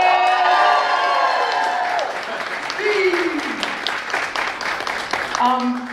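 An audience at a film press conference applauds and cheers, with whoops rising over steady clapping while voices call out and speak over the crowd.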